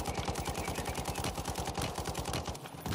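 Rapid automatic gunfire from the shooter game Warzone rattles in a fast, even burst of shots lasting about three seconds. It is loud and close, with no voices.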